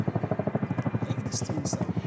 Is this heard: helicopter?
yes